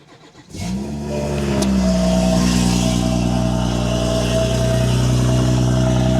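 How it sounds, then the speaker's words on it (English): Cold start of a BMW 340i engine, recorded up close: a short cranking burst catches into a loud rev that rises, then settles into a steady, high, droning fast idle with no talking. "Get this cold start going, man."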